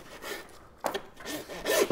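A handsaw rasps through deer vertebrae where the sirloin meets the loin during home butchering, giving a few close, scratchy back-and-forth strokes that grow louder toward the end.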